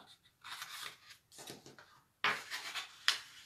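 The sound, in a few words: burnishing a cardstock fold with a bone folder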